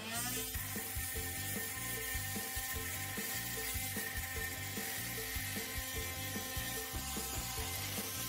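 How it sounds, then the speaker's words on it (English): An oscillating multi-tool blade grinds against tough metal screws, a steady loud buzzing rasp with constant vibration that never lets up, no voices. "looks like this blade can't cut through these tough screws"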